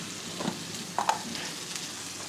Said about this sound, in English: Give the rice a stir halfway through.